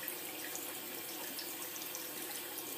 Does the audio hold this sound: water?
yes